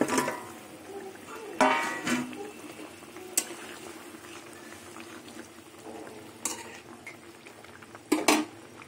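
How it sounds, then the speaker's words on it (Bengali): Fried rui fish pieces dropped into a simmering mustard-poppy gravy in a pan: soft bubbling under occasional sharp clinks and clatters of utensil against the pan, with a few louder knocks near the end. "এবারে ভাজা মাছগুলো দিয়ে দেবো।"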